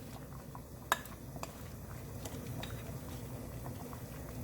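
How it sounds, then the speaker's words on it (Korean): Seonjiguk, a Korean beef blood soup with chilli, simmers in a pot, giving a faint, steady low bubbling with one brief clink near the start. "이렇게 해서 한 소금만 더 끓여줍니다"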